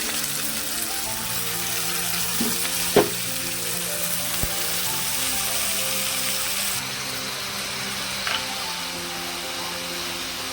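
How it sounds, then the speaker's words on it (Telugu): Spinach frying with tomato curry in a pan gives a steady broadband sizzle throughout. A couple of brief knocks stand out, and there is no talking. "టమాటా మగ్గిందండి, కొంచెం పాలకూర వేసేసి"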